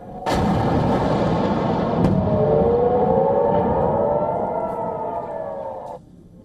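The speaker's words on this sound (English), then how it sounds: "warning sirens can be heard in the background for residents to take shelter" A wailing air raid siren drones steadily in the open, rising and holding its tone, with a couple of sharp distant bangs underneath.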